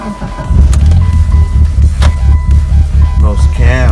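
A Mitsubishi Evo 8 drives along with a steady low engine drone from inside the cabin, loud and close, while people talk over it.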